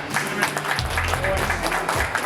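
Applause from a group at a chess camp gathering, a steady patter of clapping hands sustained for a couple of seconds with voices and background music mixed in.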